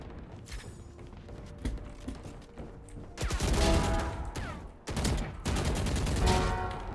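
Gunfire in a video game: scattered single shots first, then dense bursts of rapid automatic fire, loud and close, broken by a short pause.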